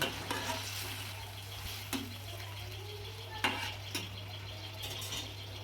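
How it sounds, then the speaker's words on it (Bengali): A spoon stirs a papaya and potato fish curry in a pan, with soft scraping and sharp clinks against the metal over a quiet sizzle and a steady low hum, close by. "ভালোভাবে নেড়ে নেব।"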